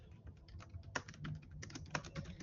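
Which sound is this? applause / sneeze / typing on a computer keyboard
typing on a computer keyboard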